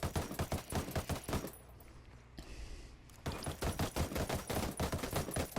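F2000 rifle in Ghost Recon Wildlands firing loud, rapid automatic bursts, with a brief lull in the middle before the dense gunfire picks up again.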